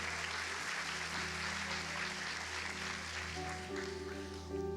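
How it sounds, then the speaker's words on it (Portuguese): Church congregation applauding during a Sunday service, a soft, sustained clapping wash with a held musical tone underneath. "Você pode aplaudir ao Senhor?"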